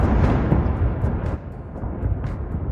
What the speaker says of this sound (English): That's the sound of war, drones attack, Russia, Ukraine, major escalation